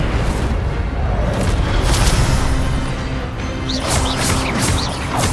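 Incendio fire spell in Hogwarts Legacy, cast repeatedly amid other spells: a loud, dense burst of roaring, crackling blasts filling the clip, with brief bright whooshing flares near the end.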